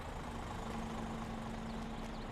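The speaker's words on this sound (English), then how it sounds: "Engine's still running." A tractor engine idles in Farming Simulator 22, a steady, constant low hum with a faint tonal drone that holds throughout without talk.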